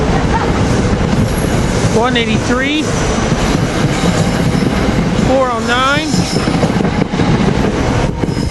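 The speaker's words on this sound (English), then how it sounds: "So the train 783 is leaving." SEPTA Silverliner IV commuter train 783 pulls out of Cornwells Heights station at rush hour, a loud continuous rumble of wheels and rail noise with pitched whine sweeps rising and falling, while a man calls out car numbers over it.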